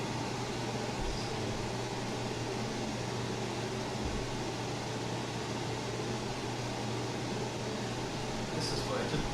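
A Honeywell 50150 air purifier runs steadily, its fan pushing a strong rush of air as an even, broadband whoosh with a low hum underneath, continuous and unchanging throughout.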